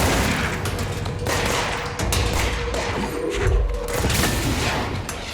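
Continuous, dense gunfire and heavy thuds from the pistol-armed shooter game Control, with booming impacts layered into a loud, unbroken wall of combat noise.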